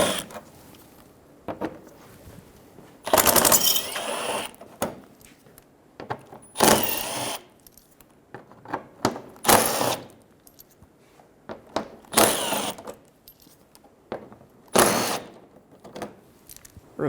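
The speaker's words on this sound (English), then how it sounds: "Go around the bottom side of the bumper and remove all of the 7mm screws." Power tool removing 7mm screws along the underside of a 2000-2007 Ford Focus front bumper, in a series of short, loud whirring bursts separated by quiet pauses, close to the microphone with no talk.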